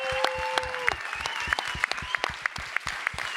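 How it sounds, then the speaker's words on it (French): An audience at a debate at the Palais de Tokyo in Paris claps heartily, filling the room with dense, sustained applause with sharp individual claps standing out, loud and close, with a brief tonal sound at the start. "on va s'applaudir un grand coup"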